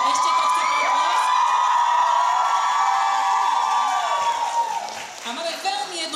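Audience at a K-pop dance contest at a comics convention bursts into loud sustained applause with cheering, whoops and high shouts from a large crowd, fading slightly toward the end.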